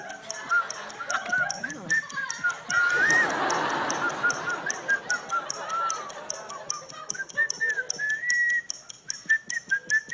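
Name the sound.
person whistling to imitate a sparrow's call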